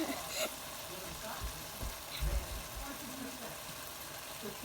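Sausage frying in oil in a pot, a soft, steady sizzle with a few low thuds from stirring, faint and mixed with background noise.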